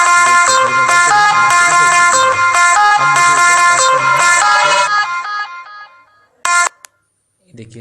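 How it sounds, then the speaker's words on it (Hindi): An Android mobile phone ringtone plays loudly and close as a bright repeating melodic tone pattern, then cuts off after about five seconds, followed by a brief burst and the start of a voice. "यदि आप अपने मोबाइल को रिंग करना चाहते हैं"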